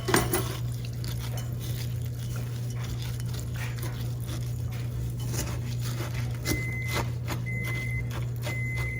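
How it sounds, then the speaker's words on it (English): A few short, high electronic beeps from a microwave oven near the end, spaced about a second apart, over a steady low hum and faint kitchen clatter. "That's my microwave going off."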